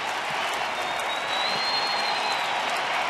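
A big baseball crowd of about 50,000 stands and roars at Rangers Ballpark in Arlington during a Red Sox at Rangers game, a steady loud wash of cheering and applause that swells slightly midway, with no talk.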